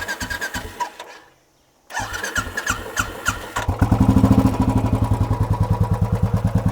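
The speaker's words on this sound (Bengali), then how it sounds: "আমি গাড়িটা স্টার্ট করে দেখি একবার।" A second-hand motorcycle with about 31,000 km on it, at a used bike showroom near Kolkata, is cranked and fires up. After a brief pause it settles into a loud, steady, thumping idle close by, with no talking.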